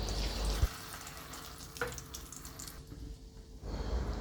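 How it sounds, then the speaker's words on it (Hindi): Omelette batter with tomato and capsicum sizzles in a hot pan, a soft continuous frying hiss with a faint clink partway through, heard alone without talk. "अब मैं ये ऑमलेट बना लूँगी"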